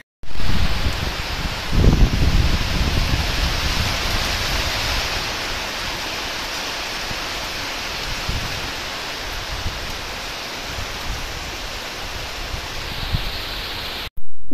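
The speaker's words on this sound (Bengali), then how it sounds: "বেশ ভালোই জোরে জোরে বৃষ্টি হচ্ছে, আর হাওয়াও দিচ্ছে। টিনের আওয়াজে বোঝা যাচ্ছে।" Heavy rain pours onto a tin roof while wind blows, making a dense, steady roar that stays loud and unbroken for the whole stretch, with a slightly stronger burst near the start.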